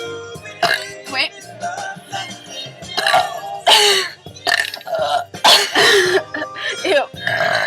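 Loud, close burps erupt one after another during a burping contest, some long and croaky, some short, with brief pauses and a little background noise between them.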